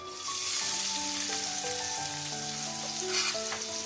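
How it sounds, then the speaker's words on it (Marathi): Two finely chopped onions sizzle and fry in a pan for a dhaba-style cashew garlic curry, a steady dense hiss throughout with music playing underneath. "दोन कांदे बारीक चिरून घेतले ते टाकून देते"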